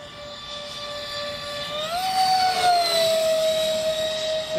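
Freewing Sukhoi Su-35 RC vectored-thrust jet with twin 70mm electric ducted fans flying at half throttle, a steady high whine that rises in pitch midway and holds, fairly near and loud, with no talk.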